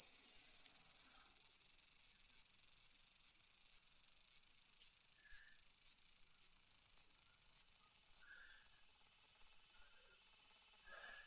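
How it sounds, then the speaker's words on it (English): Cicadas drone loudly and continuously in a summer scene from a Japanese visual novel game, a steady high buzzing chorus filling the whole stretch with faint occasional chirps beneath. "So the cicadas are singing loudly."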